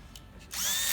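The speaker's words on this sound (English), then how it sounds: "And then you take the drill." A cordless drill whirs up and runs steadily, close and loud, to back out the screws on a Chinese ATV battery after a moment of quiet handling.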